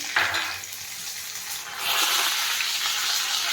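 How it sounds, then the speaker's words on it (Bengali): Cumin seeds, bay leaf and whole garam masala sizzle in hot oil in a pan, a steady close frying hiss that swells louder partway through, with no talk. "দিলাম একটু জিরে ফোড়ন জিরে তেজপাতা গরম মশলা"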